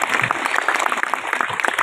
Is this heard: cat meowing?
no